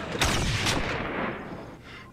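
Gunshot from the TV series Firefly, two quick loud bangs close together followed by a fading echoing tail, with no speech over it.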